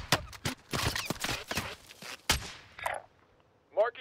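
Gunfire in a firefight: several sharp, loud shots in an irregular burst near the start and middle, with radio-style voices and brief clicks in between.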